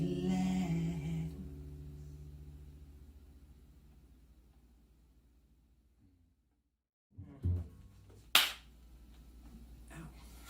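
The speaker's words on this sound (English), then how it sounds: "Michael claps really loud." A single loud, sharp hand clap cracks out of a quiet living room during a live music session, after fading instrumental tones and a brief softer thump.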